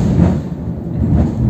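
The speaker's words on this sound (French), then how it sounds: "oula, il y a de l'orage dehors." Thunder from a storm outside rolls as a loud, deep, continuous rumble, heard alone with no voices.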